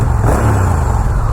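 A DCT motorcycle on its stock exhaust idles and revs nearby, giving a loud, steady, low engine rumble with no talk.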